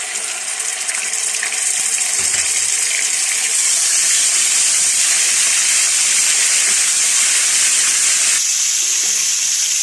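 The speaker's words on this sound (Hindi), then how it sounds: "कुछ सेकंड्स आप इसको फ्राई करें" A loud, steady sizzle and hiss of garlic-ginger paste frying in hot oil fills the clip continuously, close and bright with no speech.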